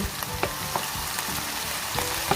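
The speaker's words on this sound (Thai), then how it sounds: "เครื่องในไก่ที่ใส่ลงไปผัดก็เริ่มสุกแล้วนะคะ" Chicken offal stir-fries in a hot pan with a steady sizzle, punctuated by scattered scraping and clinking strokes of a spatula against the metal, fairly close and continuous.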